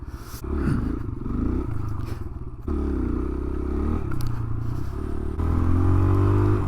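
A small motorcycle on a speed run on Long Island, New York, its engine droning steadily with shifts in pitch, some scraping and clatter, and a louder surge toward the end.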